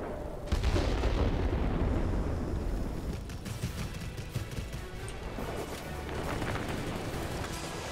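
Bombs dropped from an NC 1070 warplane in World of Warplanes burst in a heavy, rumbling explosion that rolls on for several seconds, loud and close, with faint crackling debris afterward.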